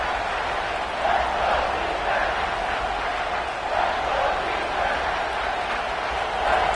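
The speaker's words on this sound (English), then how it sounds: "the crowd coming to life here, trying to help this defense down in the red zone" A football stadium crowd cheers during the Michigan vs TCU game as the defense plays in the red zone, a dense, continuous roar that swells slightly in waves, loud and steady throughout.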